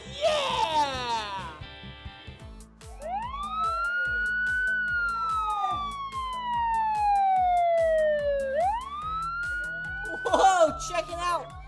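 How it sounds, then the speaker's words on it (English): A toy police car at a children's museum wails with a rising and falling electronic siren, looping over several seconds. Children's chatter and clattering sounds play around it, with a busy burst of noise near the end. "And we have the siren."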